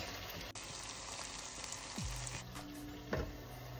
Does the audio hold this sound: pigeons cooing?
no